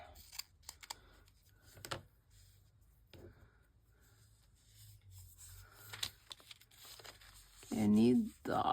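Scissors cut through a paper junk mail envelope, trimming off its white edges, in sparse close snips and crinkles of paper separated by quiet pauses, with a brief burst of speech near the end.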